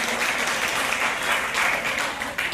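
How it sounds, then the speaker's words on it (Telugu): Audience at an award ceremony applauds in a dense, steady burst of clapping that fills the room, continuous from start to finish. "చప్పట్లు వీళ్ళందరి కోసం."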